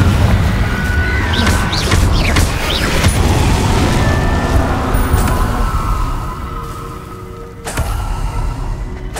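Spell blasts from the Confringo fire spell in the Hogwarts Legacy video game, loud bursts with crackling whooshes over a dense, continuous game soundscape.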